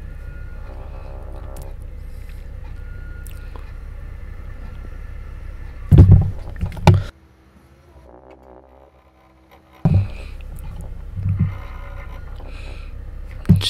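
A forklift lifts and unloads concrete Hume pipes outdoors, its engine droning steadily with heavy clunks and thuds as the load shifts, then a brief lull before the machine roars back up.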